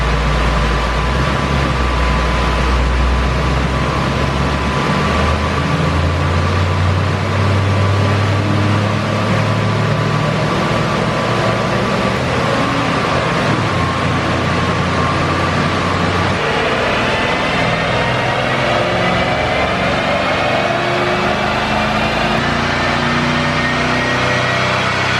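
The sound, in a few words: Mercedes-AMG E63S engine at full throttle on a dyno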